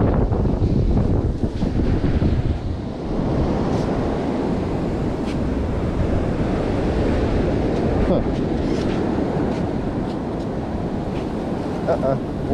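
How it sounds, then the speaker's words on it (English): Waves wash in steadily on a Florida beach, a broad continuous roar of surf with buffeting wind noise on the microphone. "Water's coming all in."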